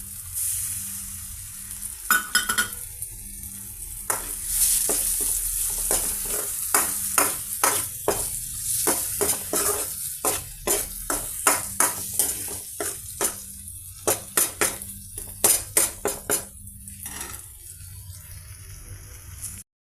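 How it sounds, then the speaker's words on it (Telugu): An egg fries with green chilli pieces in oil for a noodle dish. A soft sizzle runs under repeated sharp scraping and tapping of a spatula against the pan in quick bursts. "చూస్తున్నారు కదండి, మన ఎగ్ కూడా బాగా ఫ్రై అయిపోయిందండి."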